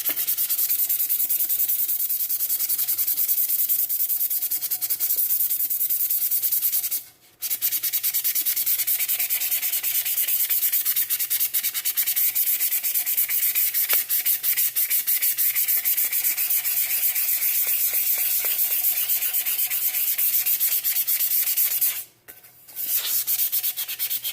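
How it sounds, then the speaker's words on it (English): A tumbler is sanded by hand before epoxy goes on, giving a continuous, close, hissing rub with rapid back-and-forth strokes. Two brief pauses break the sound. "you're going to want to sand it all the way there because you want the epoxy to adhere"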